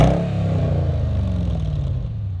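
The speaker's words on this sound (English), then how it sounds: "You just want to listen to this brutal engine that they've got in front of us." A Mercedes-Benz SL500 engine revs with a deep, loud, close rumble that holds steady and then eases off slightly, with no voices.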